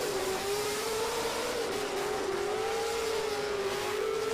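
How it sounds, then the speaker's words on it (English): Nissan Silvia drift car leaving the line at the Muscat Drift Arena, a loud sustained engine note rising steadily in pitch as it accelerates, heard from a distance over crowd and arena noise. "Al Amri leaves the line in his Nissan Silvia. Away he goes."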